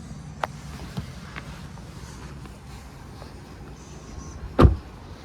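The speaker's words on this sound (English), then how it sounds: "to open and shut your doors, you just got your button there." A 2024 Tesla Model 3 Performance door worked by its electric button: faint clicks early on, then a sharp, loud thump as the door shuts, over quiet cabin hum.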